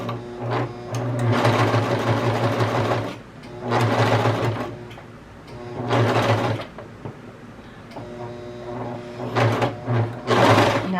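A Brother Pacesetter cover stitch machine runs through knit fabric in several loud, close bursts of rapid mechanical stitching, each lasting a second or two and separated by short pauses.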